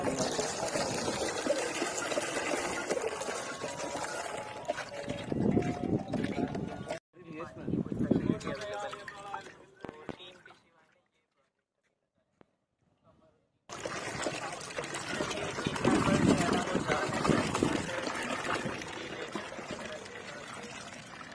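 Water gushes and splashes from a newly inaugurated hand pump in Ibrahim Hyderi town, pouring steadily in loud stretches broken by a brief silence, with people talking over it.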